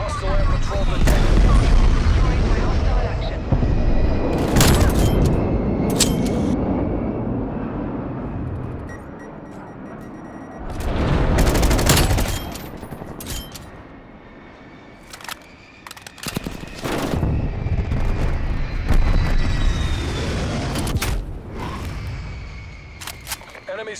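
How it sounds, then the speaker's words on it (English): Loud explosions from a hostile aircraft strafing run in a multiplayer shooter, with several heavy booming blasts in bursts separated by quieter gaps. "Hostile strafe run inbound."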